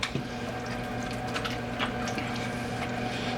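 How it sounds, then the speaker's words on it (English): Tap water runs steadily into a double sink while a cake pan is wiped clean of mix, a continuous hiss with small drips and squishes over a low hum. "Now we got a double sink, and we're doing a wipe down to get all the mix out of this pan here."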